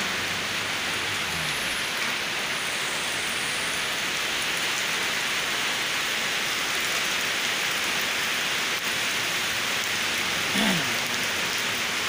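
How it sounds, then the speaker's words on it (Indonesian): Steady rain pours down while people shelter from it at night, a dense even hiss of drops on surfaces that continues for the whole stretch with no one talking. "Kita berteduh dulu karena hujan."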